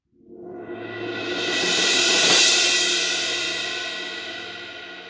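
A cymbal swell, heavily compressed and sitting back in the mix, rises from nothing into a bright sustained wash that peaks near the middle and holds its level through a long, evenly sustained release.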